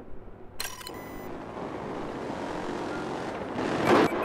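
Steady rotor and engine drone of a Little Bird attack helicopter in Battlefield 4, fairly distant, swelling slightly near the end, with a couple of brief mechanical clicks early on.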